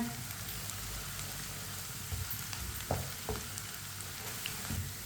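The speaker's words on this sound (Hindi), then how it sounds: "लहसुन को भी 1 मिनट के लिए पका लेते हैं।" Soft, steady sizzle of garlic frying in a pan, with occasional light clicks and scrapes of stirring, quiet and close.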